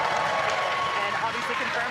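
A crowd at SpaceX Mission Control in Hawthorne cheering and applauding during a rocket launch, a steady dense roar of clapping and voices throughout, with someone talking over it.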